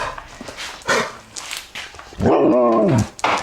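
A dog gives a drawn-out whining howl with rising and falling pitch, preceded by a few short yips and breathy sounds, close by.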